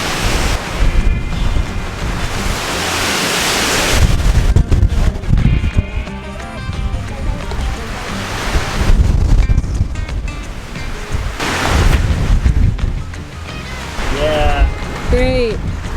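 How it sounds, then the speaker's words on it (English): Cold high wind buffets a campsite in loud, gusting surges that batter the microphone with rumbling roar, easing and swelling repeatedly, with a person talking briefly near the end. "that wind is cold and it is blowing"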